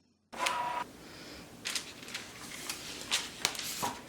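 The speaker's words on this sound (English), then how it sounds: "I can just click unload and my material will unload from Cricut Joy" A Cricut Joy cutting machine unloading material, with a short motorised whir followed by several faint mechanical clicks and small feed movements close by in a quiet room.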